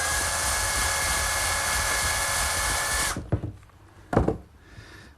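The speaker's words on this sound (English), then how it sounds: "There's a drill to get that through." A power drill whines steadily as it bores a 3/16 hole through a metal leg in a garage workshop, then cuts off abruptly, followed by a couple of brief clunks and handling knocks.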